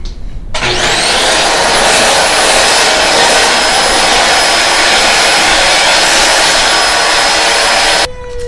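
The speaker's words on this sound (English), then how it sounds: "Alright guys, we're gonna vacuum all this" A vacuum cleaner sucking up sanding dust from a wood door and trim under repair starts up with a rising whine, holds a loud, steady roar close by for several seconds, then cuts off.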